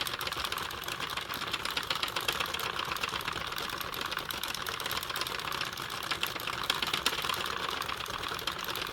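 A hand-cranked circular knitting machine works a hat, giving a steady, dense mechanical clatter of rapid ticking needles that runs continuously and evenly at close range with no talk.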